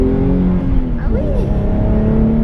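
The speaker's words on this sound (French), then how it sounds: "Ce qui est génial en atmo, c'est que ça accélère tout le temps" A Nissan 370Z with a naturally aspirated engine accelerates, its engine note rising and wavering in pitch over a loud, constant rumble heard from inside the car.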